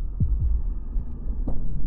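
Slow, deep thumping heartbeats from a horror video game pulse at close range, loud and low, with a double-beat rhythm and no talk over them.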